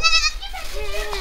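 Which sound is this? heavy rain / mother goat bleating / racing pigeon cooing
mother goat bleating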